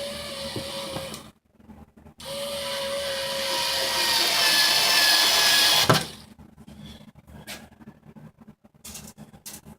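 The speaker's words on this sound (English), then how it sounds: "I've never used this little power screwdriver before" A small cordless power screwdriver driving screws while building adjustable bookshelves, whirring steadily in two close, loud bursts of about one and four seconds, separated and followed by quieter handling noises.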